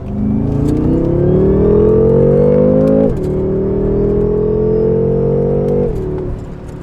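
A BMW F10 M5 pulls hard from 3,000 RPM in second gear, its engine note rising loud and close, dipping briefly at a shift near the midpoint and climbing again before easing off.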